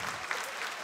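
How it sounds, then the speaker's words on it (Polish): Audience applause at a children's music school recital for a six-year-old pianist, a brief burst of dense clapping from a hall crowd. "Gorące oklaski dla Matyldy, drodzy Państwo."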